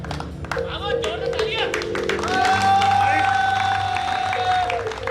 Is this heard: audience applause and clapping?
yes